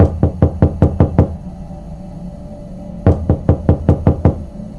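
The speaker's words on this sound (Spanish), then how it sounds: "Escuchaba que alguien tocaba la puerta de mi casa." Knocking on the door of a house at night: two rapid series of about seven sharp, loud knocks each, separated by a pause of nearly two seconds, with no voices.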